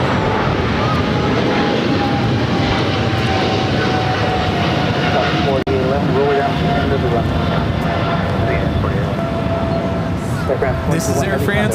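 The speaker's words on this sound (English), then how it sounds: "This is Air France Flight 21 taking off to Paris on the 777-300ER." An Air France Boeing 777-300ER takes off from LAX bound for Paris, its engines roaring loud and steady for the whole stretch with a rising whine over the rumble, while people talk faintly beneath it.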